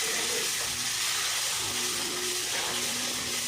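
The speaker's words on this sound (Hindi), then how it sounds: "मैं जो ये चाशनी है वो धीरे धीरे डालूंगी" Sugar syrup poured slowly into roasted flour in a home kitchen, giving a steady, loud broadband sizzle and hiss that persists throughout with faint clattering underneath.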